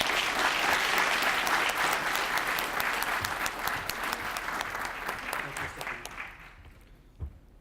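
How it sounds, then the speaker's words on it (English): Sustained audience applause for a panel at a winegrape commission meeting, many hands clapping densely and steadily, then thinning and fading toward the end with a few last claps. "let's give a round of applause for our great panel"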